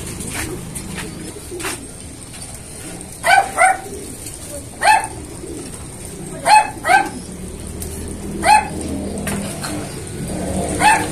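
Pigeons coo in short, separate bursts, spaced a second or two apart, over a steady low outdoor hum.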